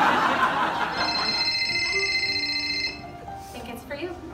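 A cell phone rings with a steady electronic tone, loud and close, its ring sounding over a bed of indistinct talk and laughter before fading near the end.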